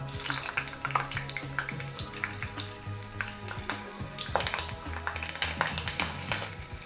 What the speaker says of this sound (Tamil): இனி மிளகாயை சூடான எண்ணெய்க்குள்ளே போட்டு பொரிக்க போகிறேன்